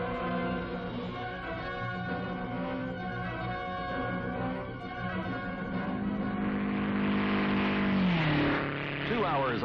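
An MG record car runs during 1956 speed trials with a sustained, tonal engine drone that swells and then drops in pitch as it passes.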